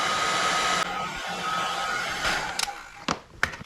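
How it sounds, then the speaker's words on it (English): A heat gun blows a steady, loud airy hiss while shrinking heat shrink tubing on automotive wiring, then cuts off, followed by a few small clicks and handling knocks. "This one is a heat shrink, so I'm gonna heat it up."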